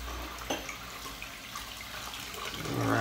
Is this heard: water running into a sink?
yes